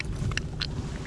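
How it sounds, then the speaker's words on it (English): A trout just caught at Tazin Lake gives a couple of short, wet belching bursts, close but brief, over a steady low rumble. "He's belching or something too."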